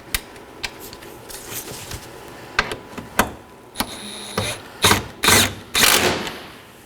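Two 10mm bolts being snugged down on the front bumper cover of a 2013-2019 Nissan Sentra, heard as a run of close, dry ratcheting clicks and metallic ticks in uneven bursts, with no talking.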